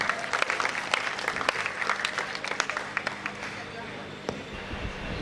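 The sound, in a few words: audience applause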